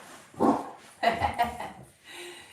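A dog barks a few times nearby, short sharp yaps with pauses between, no talking.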